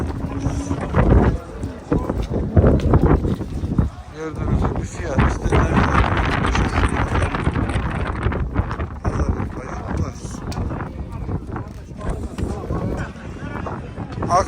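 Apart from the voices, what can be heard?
strong wind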